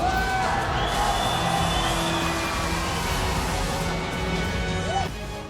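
A crowd at a combat fighting match cheers and applauds in a loud, dense, continuous roar with scattered whistles and shouts, easing slightly at the end.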